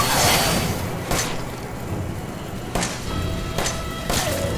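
Pistol gunshots in the horror game Resident Evil 7 land as four sharp, separated cracks spread over a few seconds, each with a short reverberant tail over a dim background.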